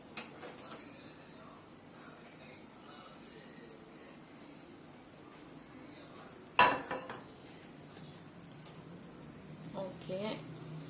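A heavy dosa tawa griddle is set down on a gas stove with one sharp metallic clank near the middle, among light kitchen clatter and faint background noise.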